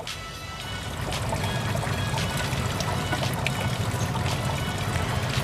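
Cocopeat, vermicompost and vermiculite potting mix being stirred and tossed by hand, a dense, steady gritty rustle close up with no pauses.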